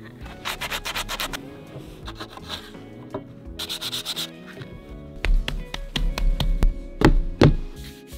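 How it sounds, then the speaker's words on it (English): Pine wood for a console table is sanded by hand in rapid back-and-forth rubbing strokes that come in bursts. Knocks and taps from handling the board break in between strokes, all close and without talking. "Then I began sanding and I sanded for hours, constantly checking and sanding and checking"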